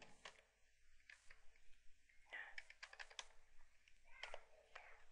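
Keys tapped on a computer keyboard while entering a branch address into an accounting program, coming as soft, close, irregular bursts of clicks with short pauses between runs.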